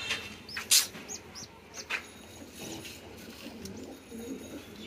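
Pigeons cooing softly in a loft during hot weather, a few faint low coos with brief chirps and light rustling, no clear talk.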